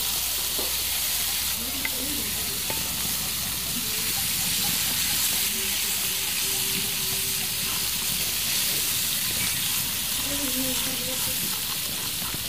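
Singhi fish frying in oil seasoned with a little turmeric and salt gives a continuous, fairly loud sizzling hiss with faint stirring clatter, under occasional quiet voices.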